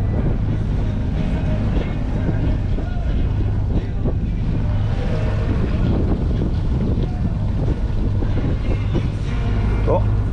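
A sailboat motors upwind under its engine in summer, a low steady engine drone running beneath wind buffeting on the microphone and some passing voices.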